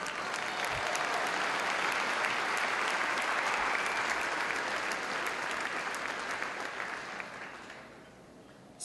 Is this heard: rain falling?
no